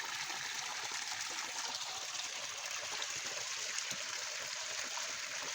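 Dirty water drains out of a crab farm pond in Konkan, a steady continuous trickling gush at moderate level, heard alone without voices.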